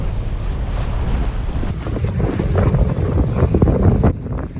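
Wind with tide against it whips choppy waves around a 20-foot sailboat in 20-knot winds, a loud continuous rush of wind buffeting the microphone over sloshing and slapping water, dropping slightly near the end.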